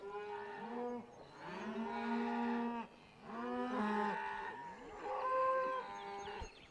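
Cattle low in three long, deep moos one after another, each swelling and fading, close and loud on a horseback cattle-handling ground.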